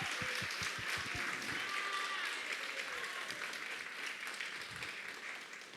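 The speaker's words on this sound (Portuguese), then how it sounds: "Pode aplaudir o nome de Jesus" A church congregation applauds during a Sunday morning service, a sustained, slightly distant wash of clapping that fades a little toward the end.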